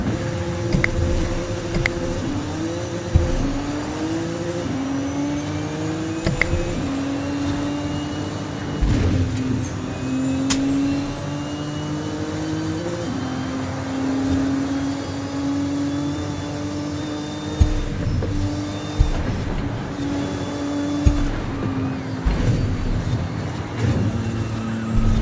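Porsche car engines roar in the racing game Forza Horizon, revving up and dropping through repeated gear shifts in a continuous loud drive with occasional thumps.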